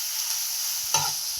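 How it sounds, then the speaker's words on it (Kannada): Beetroot sizzles steadily in a pan for a beetroot palya, with a single short scrape as a spoon stirs it partway through, close and moderately quiet, with no voices. "ಇದನ್ನ ಚೆನ್ನಾಗಿ ಫ್ರೈ ಮಾಡ್ಕೊಳ್ಳೋದ."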